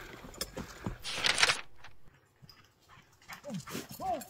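A dog whimpers and yips close by in short bursts, mixed with someone talking nearby.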